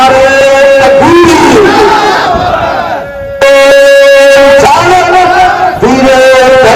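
A large crowd at an Eid Milad-un-Nabi religious gathering in Ghazipur answers a takbir call with a loud, unified chant of Allahu Akbar, the massed voices swelling in repeated waves with a brief lull between shouts.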